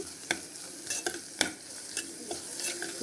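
Ginger garlic paste with green chillies frying in a pan, a soft steady sizzle with a spoon scraping and stirring in irregular clinks, fairly quiet.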